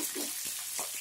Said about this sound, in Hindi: अब इसमें मिर्च दिया जा रहा है, उसके बाद प्याज दिया जा रहा है।